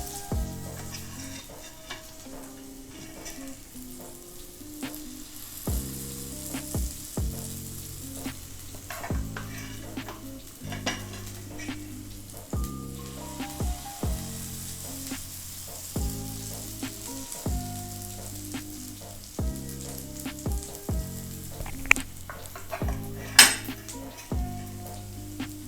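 A steady, soft sizzle of oat pancake batter frying in a pan, four or five pancakes at once, runs throughout, with occasional clinks of utensils and background music playing along.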